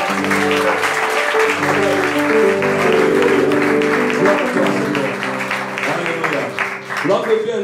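A church congregation applauding during a worship service, with sustained clapping under a strong, tonal voice or singing that runs throughout.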